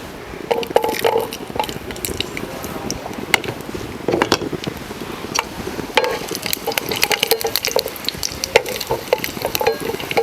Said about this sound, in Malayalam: അപ്പോൾ എണ്ണ നന്നായിട്ട് ചൂടായി വന്നിട്ടുണ്ട് നമുക്കൊരു അഞ്ചല്ലി വെളുത്തുള്ളി ഇടാം